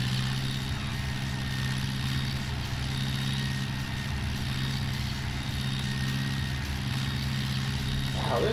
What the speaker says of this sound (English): this tractor seems very loud for some reason